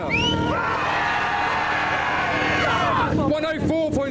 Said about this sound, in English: We're going to put a decibel reading for the crowd's cheers.